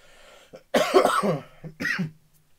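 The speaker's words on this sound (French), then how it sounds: "Donc il se peut que je tousse." A few harsh coughs close to the mic, a short burst followed by another cough after a brief pause, with no talking.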